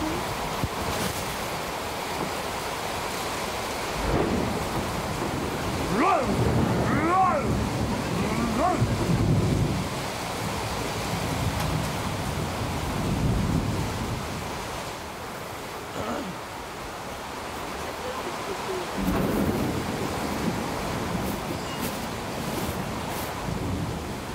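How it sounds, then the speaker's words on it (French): Storm with gusting wind and heavy rain pouring down outdoors, a broad roaring wash that swells and eases over time, with voices talking faintly beneath it. "La voilà la tempête."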